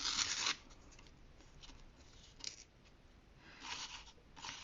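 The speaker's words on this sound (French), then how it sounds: "Et donc là, vous déchirez le papier qui est sur le dessus." Quiet, close rustling and tearing of a paper backing peeled off the top of a home decor piece, in short bursts, with a sharper rip at the start and softer peeling sounds later.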